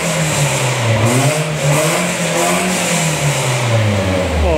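A Nissan Silvia S15 engine revving through a modified exhaust, rising and falling in repeated close, loud pulls with a deep droning tone and no talk over it.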